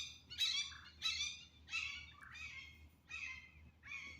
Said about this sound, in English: Y'all hear that hawk? That's a hawk right there.